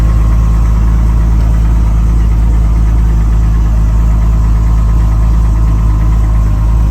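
A 1800-horsepower Toyota Supra drones loudly while being driven on the road, a deep, continuous engine rumble with a rough, knocking vibration close to the microphone and no one speaking.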